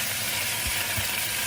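Pork collar and fungus stir-fry in a pan with a loud, continuous sizzle and hiss, close up, with a couple of soft low knocks.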